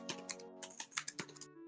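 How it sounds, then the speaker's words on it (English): Keys clatter on a computer keyboard in a quick, uneven burst of about a dozen sharp clicks, close to the microphone and fairly quiet, with no voices over it. "we hear your keyboard"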